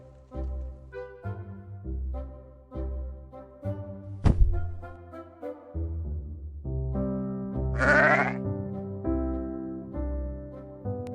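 Sheep in a pen in the Town Star farming game bleat repeatedly, a series of clear, close calls with a sharp click partway through, with no voices.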